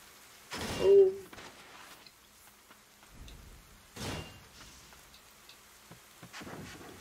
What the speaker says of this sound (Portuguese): Nem música nessa área não tem, só tem som de chuva.